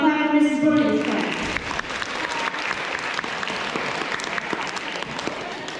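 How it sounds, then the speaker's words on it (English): A K-2 children's class at a school awards event claps together after a brief voice at the start, the applause sustained and lively throughout. "Let's all clap for Mrs. Burning's class."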